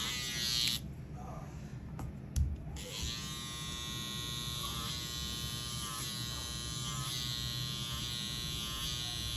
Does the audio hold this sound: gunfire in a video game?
no